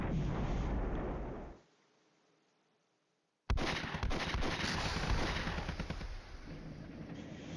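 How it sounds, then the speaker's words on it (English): Artillery fire pounds in the war game Flashpoint Campaigns: Red Storm, a loud rolling barrage that cuts to near silence for about two seconds before another sustained burst of blasts and crackling impacts resumes. "Well, artillery."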